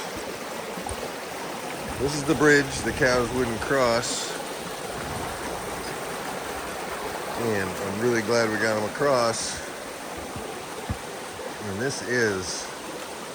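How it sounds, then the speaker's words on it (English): Small river in flood after heavy overnight rain near a farm bridge, a steady rushing water sound running throughout under someone talking close by. "I'm gonna flip the camera and show you the little river in flood"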